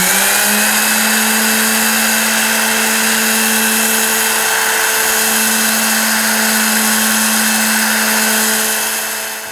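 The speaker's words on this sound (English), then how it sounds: "The quarter sheet finishing sander is a great tool. It's small and light." A steady, loud quarter-sheet finishing sander sanding pine whirs continuously with a strong low hum and buzzy high whine, running without pause before easing off at the very end.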